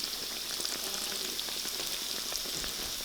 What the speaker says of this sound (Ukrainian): Смажуються вони недовго, оскільки дірочка в центрі дає можливість швидко пропектися тісту всередині.